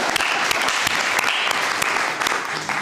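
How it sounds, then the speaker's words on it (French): An audience at a talk gives dense, continuous applause that stays loud and close throughout, with no voices over it. "Bravo, on peut l'applaudir."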